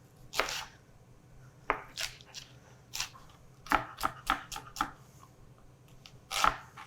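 A knife mincing an ingredient for a green bean and corn salad dressing taps a cutting board in irregular chops, some single and some in quick clusters, close and distinct with no talking.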